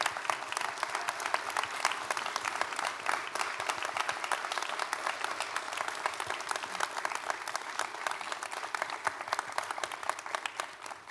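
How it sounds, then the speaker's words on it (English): A hall audience applauds volunteer award winners as they stand, dense sustained clapping from many hands that holds steady throughout and fades slightly at the end. "please stand so that we may recognize you with a round of applause"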